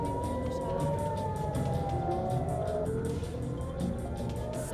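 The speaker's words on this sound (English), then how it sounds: "Sirens erupt across cities." Air raid sirens wail across Tel Aviv during a missile barrage, a sustained tone that slowly drops in pitch over a steady rumble of traffic and city noise.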